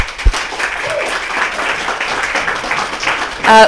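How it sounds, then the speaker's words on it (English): An audience applauds at a Christmas-themed show, a moderately loud, even patter of many hands clapping that continues throughout and swells slightly at the end. "Another round of applause."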